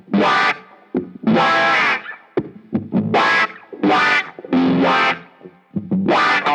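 An electric guitar runs through a GFI System Rossie multi-filter pedal in expression mode, producing funky, vocal-like wah sweeps on short, choppy chords and single notes, played alone and up close.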